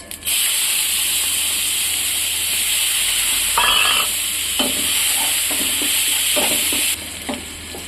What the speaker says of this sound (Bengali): এবার পেঁয়াজগুলো তেলের মধ্যে ভাজা হয়ে গেছে